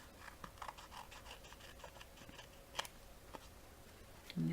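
Scissors trim craft material for a heart shaker decoration, giving faint, scattered snips and light clicks in a quiet room with no talking.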